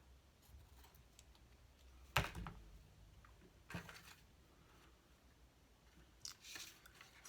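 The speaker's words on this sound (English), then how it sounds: "I'm going to use my fabric scissors on this." Fabric scissors snip through ribbon in a quiet room, with three short, sharp cuts spaced a second or two apart against near silence.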